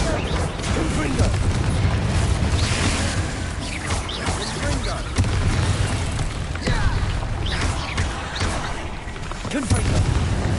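In Hogwarts Legacy, repeated Confringo blasting spells burst in a dense, loud stream of booms and pops, with a voice talking over the combat.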